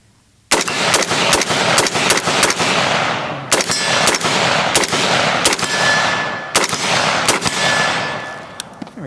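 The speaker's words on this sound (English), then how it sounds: "Let's do like a little mag dump." Rapid bursts of gunfire from a PSR62 rifle emptying a partly filled magazine at a target, about a dozen sharp loud shots in quick irregular succession after a short quiet start.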